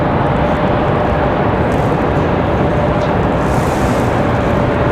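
An airliner departing Raleigh Durham airport, a steady, loud broadband jet roar that holds constant throughout with no talk over it.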